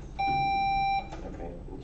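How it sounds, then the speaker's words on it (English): A single steady electronic beep from a quiz-bowl buzzer test, lasting under a second, clear and close, followed by quiet room noise. "Can I check my buzzer?"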